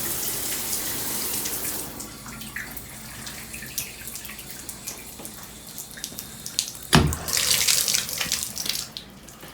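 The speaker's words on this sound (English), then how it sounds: "we have the normal shower setting, which is fine with me." Water runs from a hotel shower on its normal setting at the Hilton Garden Inn Mobile East Bay in Daphne, Alabama, a steady hiss that swells louder and splashier near the end.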